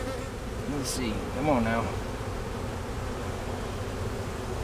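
Honey bees from a large swarm clustered under a house hum steadily at close range, a continuous buzz behind someone speaking briefly.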